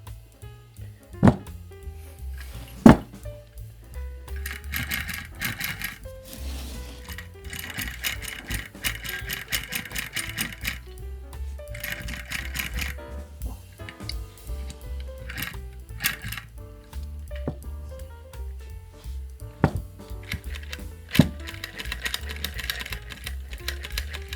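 A tiny handmade sewing machine runs in quick rattling bursts, with sharp clicks and knocks over a steady low mechanical hum, close and fairly quiet with no talk.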